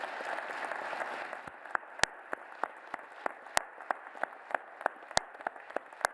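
An audience at a hospital groundbreaking ceremony applauds; a full round of clapping thins out to a few scattered claps, with one loud clapper keeping an even rhythm near the end.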